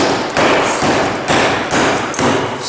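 Repeated heavy hammer blows smash into a concrete block while a pilaster is built during block laying, five or six loud, close, evenly spaced crashing impacts with no talking.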